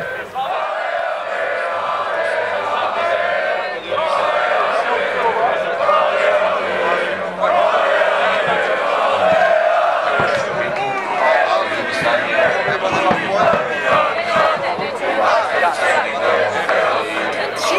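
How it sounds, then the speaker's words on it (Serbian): Red Star Belgrade supporters gather outside the Marakana stadium before a match, their loud massed chanting and shouting rolling on continuously, near and dense, with crowd chatter mixed in. "Polako se približavamo navijačima, oni su već glasni"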